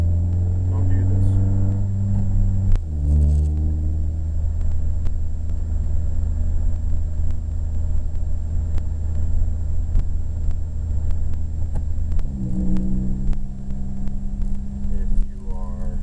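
A Nissan B16 Spec V car engine fitted with a Weapon R torque damper drones loudly and steadily throughout the drive, with the pitch dropping and rising again as it shifts gears twice.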